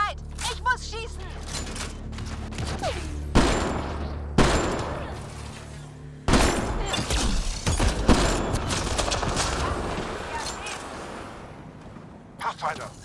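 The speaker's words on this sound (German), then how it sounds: "Ich muss schießen!" Gunfire in the video game Mass Effect: Andromeda: bursts of rapid shots and booms come in waves, loud and dense, mixed with game effects and voices talking over the action.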